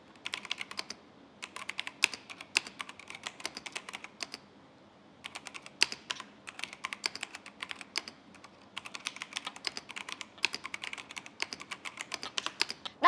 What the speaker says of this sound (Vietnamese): lần này chúng ta sẽ cùng test Firefly nha